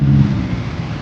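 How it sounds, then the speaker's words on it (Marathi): Road traffic on a street in Dombivli heard from a scooter, a steady close rumble of engines with a brief revving vehicle, no talk. "फुल ट्रॅफिक"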